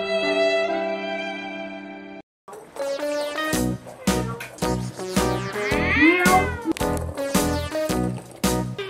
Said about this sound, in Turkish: Kedileri dışarı attım